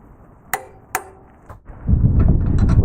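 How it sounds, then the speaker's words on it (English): A torque wrench tightens the rear subframe bolts of a BMW F2x/F3x to 108 newton meters. Two sharp, close metallic clicks come a beat apart, then a fainter tap, followed by a rising rough rustling clatter. "Now we'll torque the rear subframe E18 bolts also to 108 Newton meters or 80 foot-pounds"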